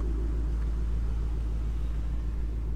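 A Ford Mustang with newly replaced tie rods rolls along a road, giving a steady low engine and road rumble from inside the cabin that stays constant throughout.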